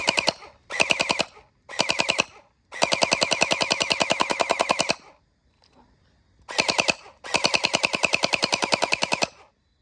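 A Nerf Nightfall gel blaster fires outdoors at night toward a fire, in rapid full-auto bursts of sharp clicking shots: several short and long strings separated by brief pauses, loud and close.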